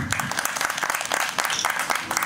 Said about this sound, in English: Boys and girls, ladies and gentlemen, big round of applause.